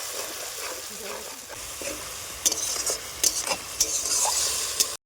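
Onion and chili paste frying and being stirred in a pan for a prawn dish, a steady close sizzle with scraping stir strokes and sharper spatula clicks toward the end, no talking.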